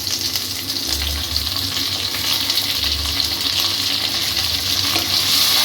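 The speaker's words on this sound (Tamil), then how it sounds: "இப்போ மீன் குழம்புக்கு நல்லா வந்து வதங்கி வந்துச்சு இப்போ நம்ம தக்காளி சேர்த்துக்கலாம்" Masala with tomatoes for fish curry frying in a pan, a steady loud sizzle with stirring scrapes running throughout and no talking.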